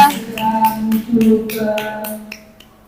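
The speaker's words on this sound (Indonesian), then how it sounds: "Kita beri tepuk tangan dulu ya." Students in a classroom clapping for a correct answer, a rhythmic series of sharp unison claps, loud and close, over a sustained voice that carries underneath and trails off at the end.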